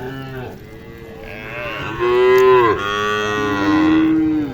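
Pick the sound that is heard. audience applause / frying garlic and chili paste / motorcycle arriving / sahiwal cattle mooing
sahiwal cattle mooing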